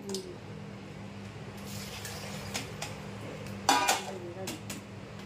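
Cut vegetables being washed in a metal vessel in a home kitchen, with soft sloshing and a few scattered clinks of steel, one sharper clatter near the end, close and moderately quiet.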